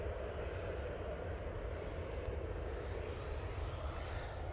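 At Manchester Airport, an airliner taxis with a constant low engine rumble and whine at a moderate distance, steady throughout, with no talking.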